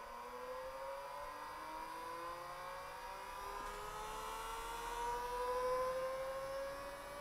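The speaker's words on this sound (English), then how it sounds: "It is spinning." An 80MB hard drive attached to a PDP-11 minicomputer spins up. Its motor whine rises steadily in pitch over several seconds against a faint hum, with no talk.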